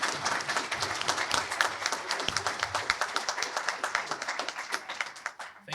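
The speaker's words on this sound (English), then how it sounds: "how about a round of applause for them?" Audience applause at a candidates forum for Saint John-Kennebecasis and Saint John-St. Croix, sustained steady clapping from a crowd in a hall, alone with no voices over it and tapering slightly at the end.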